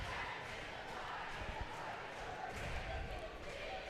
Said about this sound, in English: Rowdy crowd really trying to get the team pumped up.